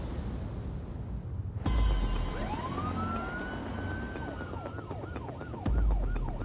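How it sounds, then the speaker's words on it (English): A wailing siren rises and falls over steady engine noise, heard from inside a vehicle, with rhythmic pulsing tones as it drives. "We're coming on blue lights and sirens"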